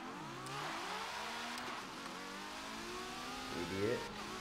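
Ferrari 812 Superfast engine racing in Forza Motorsport 7 on an airfield, a continuous engine drone with rising and falling revs and a sharp surge near the end, under a faint voice.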